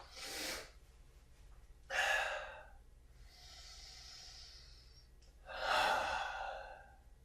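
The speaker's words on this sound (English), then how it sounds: "But let me take that breath now." A person takes a slow, deep breath close to the microphone: a few breathy inhales and exhales with short quiet gaps between, soft and without words.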